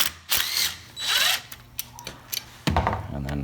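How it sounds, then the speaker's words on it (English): Ratchet wrench fitted with a 13mm socket backing out the detent spring bolt on a 4L60E transmission, a few quick bursts of clicking pawl followed by a heavier clunk near the end, close up. "take out this, I think it's called the detent spring with a 13mm socket"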